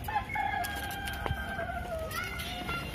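A rooster crows loudly and close by in an animal park in Israel, one drawn-out call lasting most of the moment over steady outdoor background noise.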